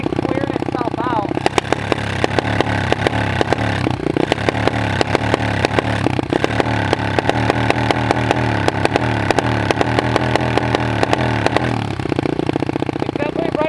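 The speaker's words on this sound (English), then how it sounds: "it kind of sounds like the bike's clearing itself out." A motorcycle engine runs at a steady idle with a lumpy, uneven putter and sharp irregular pops and misfires throughout, a close and continuous sound like the bike clearing itself out.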